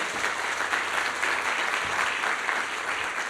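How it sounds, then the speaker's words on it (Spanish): Audience applause for speakers at an energy forum session, a continuous even wash of clapping from a seated crowd at moderate distance, with no talk over it. "Los aplausos, por favor, para ellos."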